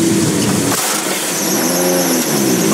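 A 1987 Toyota MR2 rallycross car accelerating hard, its engine loud and close, climbing in pitch, dropping briefly at a gear change, then climbing again, with no voices.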